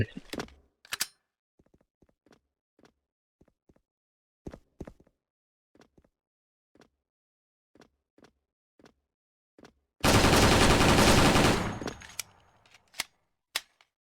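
HONOUR G36C gunfire in a video game: sparse single shots and clicks spaced out over several seconds, then a loud sustained burst of automatic fire, followed by a few more isolated shots.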